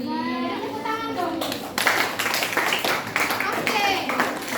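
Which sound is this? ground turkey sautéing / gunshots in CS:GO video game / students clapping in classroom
students clapping in classroom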